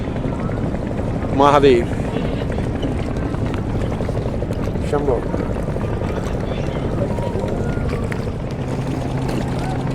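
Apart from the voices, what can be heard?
helicopter ride over Triveni Sangam, Prayagraj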